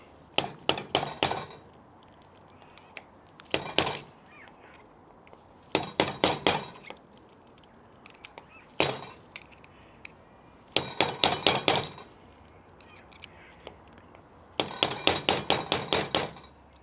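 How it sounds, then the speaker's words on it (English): A screwdriver is hammered against a lock cap held on a bench block to knock it off, producing bursts of sharp metallic taps, several quick strikes per burst separated by pauses, loud and close, with no talk. "we're actually going to pull the cap off the lock. This is what the bench block's for. Cap, screwdriver, violence."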